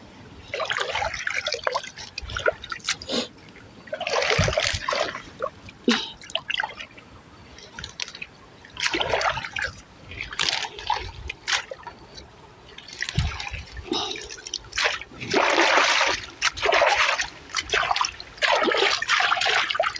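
Foraged wild vegetables being washed by hand in water: irregular splashes, sloshing and trickling bursts, close and fairly loud, coming in uneven waves with short pauses between.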